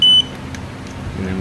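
A tool gives a single short, sharp high beep at the start while tightening a clamp on a 2018 BMW S1000RR motorcycle steering damper, followed by quiet room noise.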